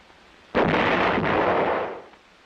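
A towed howitzer fires a single round, giving one sudden heavy boom that rolls into a broad, sustained roar and then fades over about a second and a half.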